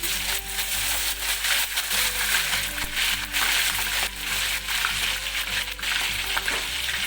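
Ginger and garlic paste fry in hot oil in a pot for chicken korma, a steady close sizzle with occasional stirring scrapes throughout.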